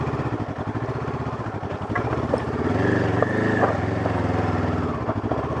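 A Honda CL500 motorcycle engine runs steadily at low revs with a throbbing, pulsing rumble that rises slightly midway, close and fairly loud throughout.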